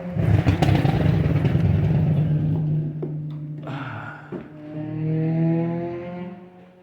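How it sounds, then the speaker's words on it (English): A Honda Civic driving around nearby, its engine droning loudly up close, then easing off as it moves away, with a few light clatters in between. "Guy going around with his Honda Civic."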